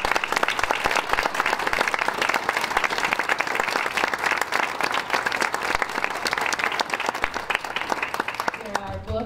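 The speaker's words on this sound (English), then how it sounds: "Let's give them a round of applause." Audience applause after a university lecture fills the hall, dense, steady clapping that holds for about nine seconds before breaking off abruptly.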